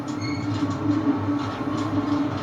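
A train rolls past at close range in a steady loud rumble with rhythmic rail clatter and a faint high squeal from the wheels, heard alone with no voices.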